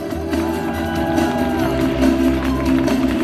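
Air show crowd in Mochishche near Novosibirsk cheering and applauding steadily, a dense roar of clapping and whoops under a faint steady drone, loud and sustained throughout.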